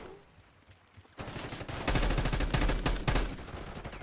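Automatic gunfire rattles in the Black Ops 6 video game, starting after a quiet second and swelling into loud, dense bursts of rapid shots with heavy low booms for the rest of the clip.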